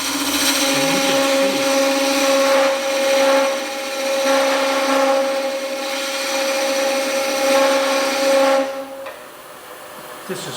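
A freshly burnished dome scraper with a burr cutting wood on a lathe, a sustained steady whir and scraping hum that runs continuously, then drops away toward the end.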